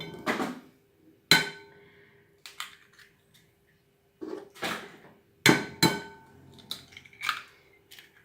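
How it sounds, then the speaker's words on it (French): Three whole eggs are cracked into quiche filling of cream over lardons and ham, heard as a series of short sharp taps and clinks against a dish with quiet gaps between them. "Je mets mes 3 œufs entiers."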